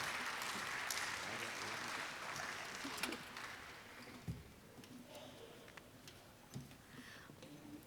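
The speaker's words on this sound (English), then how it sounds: "I don't think we can clap enough." An audience clapping at a chamber of commerce session, a fairly faint spread of applause that thins into scattered individual claps as it dies away.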